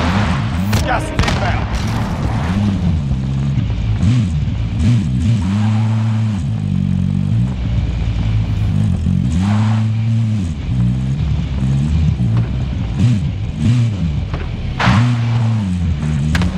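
A car driven in Call of Duty Warzone, its engine droning and rising in repeated revving surges, with scattered booms and gunfire in the distance and voices talking over it.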